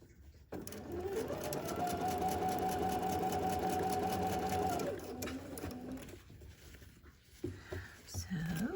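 Home sewing machine stitching a quilt block, a steady rapid whirring hum running for several seconds before slowing and stopping, followed by quiet handling sounds; a person talks softly over it.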